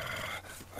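A dog growls in the Professor Layton and the Mask of Miracle video game, a short, loud, rough snarl that swells toward the end.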